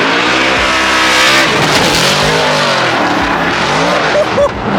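Formula Drift cars roar past very close on a Long Beach street course, engines screaming loud and near with tire squeal and a rising-and-falling pass, with no talking.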